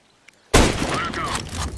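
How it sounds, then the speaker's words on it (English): Flashbang detonating in Counter-Strike during a competitive match, a sudden loud bang after near-silence, followed by a bright ringing, crackling wash that lingers to the end. "Throwing a flashbang."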